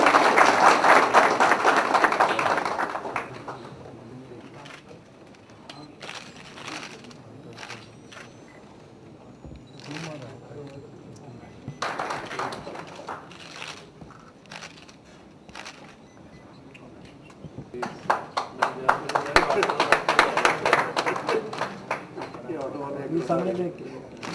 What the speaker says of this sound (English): The clap noise is very less. A big round.